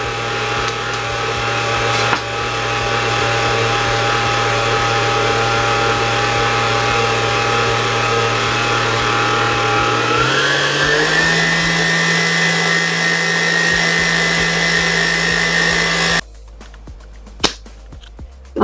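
An electric mixer beats cookie dough after an egg is added, a loud steady motor whir that drops in pitch partway through, then cuts off abruptly, leaving a quiet room with a single sharp knock.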